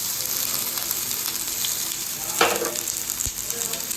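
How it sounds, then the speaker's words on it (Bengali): Spices sizzle and fry in plenty of hot oil in a heated frying pan, a steady close crackle throughout with a brief louder burst of spattering midway and no voices. "এর মধ্যে দিয়ে দেব অনেকটা পরিমাণ তেল এবার ছেড়ে দেবো সব মশলাগুলো"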